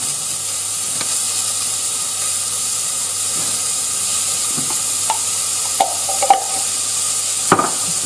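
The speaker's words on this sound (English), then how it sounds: "I'm going to add a good teaspoon of the minced garlic." Minced garlic sizzling in a pot while making seafood chowder, a steady loud frying hiss throughout with a few light stirring knocks near the end.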